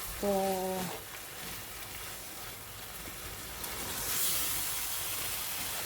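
Garden egg stew with tomatoes simmering in a pot gives a soft, steady hiss and sizzle that runs throughout, with a brief tonal beep near the start and a slight swell toward the end.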